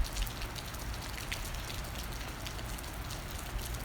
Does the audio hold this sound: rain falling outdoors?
yes